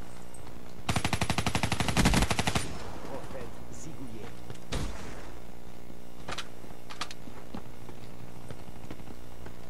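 A Kuda submachine gun fitted with a small sight fires a rapid burst in Black Ops 3, a loud rattling string of shots lasting about two seconds, followed by a few scattered single bangs and clicks.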